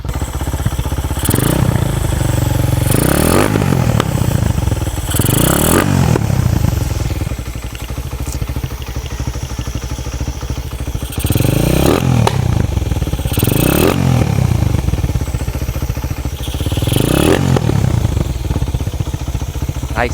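A motorcycle engine revved in repeated bursts, each rising and falling roughly every few seconds between steady idling, loud and close, with a clattering mechanical ticking from the carburetor running underneath.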